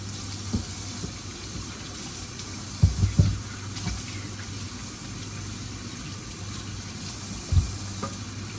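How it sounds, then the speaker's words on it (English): A steady, soft bubbling hiss of a pot of pasta water boiling, with a few faint knocks and clinks near the start and end. "the water for the pasta is boiling"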